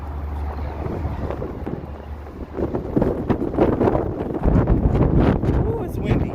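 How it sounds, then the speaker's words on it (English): Wind gusts around a pusher tug, steady rumbling buffeting and microphone wind noise that grows stronger over the clip, with someone speaking over it. "Ooh, it's windy."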